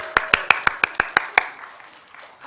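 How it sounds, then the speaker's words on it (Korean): A short burst of about eight sharp hand claps from an audience at a church training session, in a quick, even rhythm, fairly close, then fading into quiet room tone. "박수 한번 부탁드리겠습니다."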